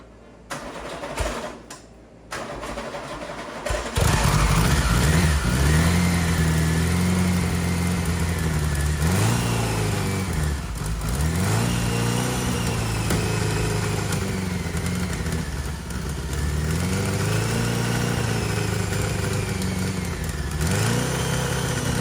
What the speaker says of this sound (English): Let's fire this thing up for the first time, and hopefully not the last.